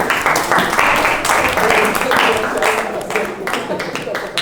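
A classroom audience applauds a student presenter, a steady patter of many hands clapping together, with voices talking over the clapping.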